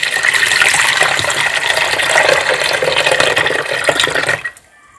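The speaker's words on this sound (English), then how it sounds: "put in our tea, and then we'll pour in the water." Water pours steadily and loudly into a pot holding tea and a cough drink mixture. The stream rushes for about four seconds, then stops abruptly into near silence.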